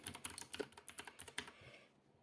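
A computer keyboard clatters under quick typing of a short search phrase, a rapid run of close, soft key taps that stops near the end.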